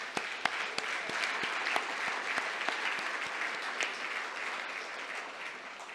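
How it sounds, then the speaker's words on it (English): Audience applause at an embassy anniversary gathering, a dense steady patter of many hands with a few sharper claps standing out, sustained and even throughout. "do a big round of applause for all of us."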